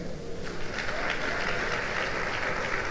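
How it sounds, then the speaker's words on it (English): Sustained applause from a conference audience at an autism event, steady and dense throughout as names are called in a roll call, with no talking over it. "please don't get tired of clapping as they come forward"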